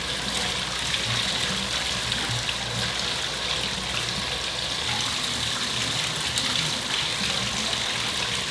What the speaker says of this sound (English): So now I'm gonna go to the tub and rinse out with lukewarm water